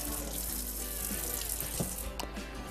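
Tap water runs steadily into a kitchen sink with a broad, continuous hiss, and a few faint clinks sound near the end.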